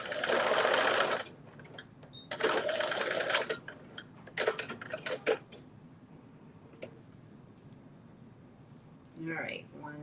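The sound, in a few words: sewing machine stitching fabric pieces together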